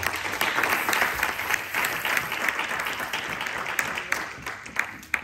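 Steady applause from a church congregation fills the space, a dense wash of many hands clapping continuously at moderate loudness with scattered sharper claps.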